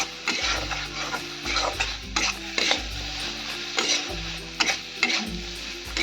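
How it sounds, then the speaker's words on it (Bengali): Masala for chicken chaap is stirred and fried in a pan over low heat after a splash of water, with rhythmic utensil scrapes and knocks every second or so over a soft sizzle; no talking. "জল দেওয়ার পর আবার ভালো করে আমি কষিয়ে নেব।"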